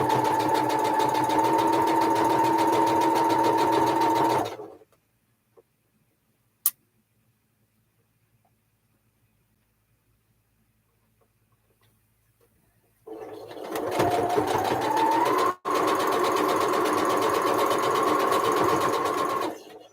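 Sewing machine stitching pieces of a Woven Star quilt block, running loud and steady for several seconds, stopping into near silence, then starting up again for a second long run.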